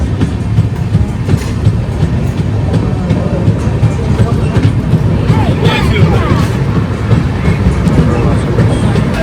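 The Pondicherry Howrah Superfast Express runs at speed through Tamil Nadu, a loud, continuous rumble with rhythmic clickety-clack of wheels on rail joints, heard from on board.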